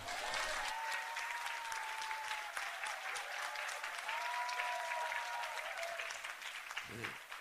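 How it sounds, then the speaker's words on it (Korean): Sustained audience applause fills a church hall during the opening service of a Vision Center, steady dense clapping throughout with a voice faintly heard over it. "너무 박수를 오래 치면 안 된다니까요"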